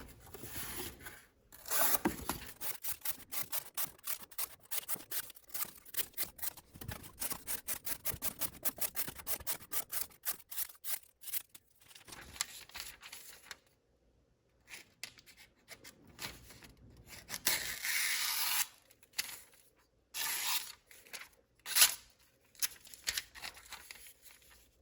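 Factory edge of a Bestech Sledgehammer knife slicing material, a rapid series of close, crisp rasping strokes in steady rhythm that slows into scattered longer slices and separate cuts, with no talking.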